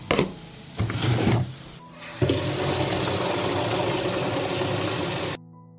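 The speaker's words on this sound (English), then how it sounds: "I will pour 5 liters of water into the bottle." Five liters of water poured from a container into a bottle, a few short splashes at first and then a steady gushing stream that fills the bottle for several seconds before stopping abruptly, close and fairly loud with no talking.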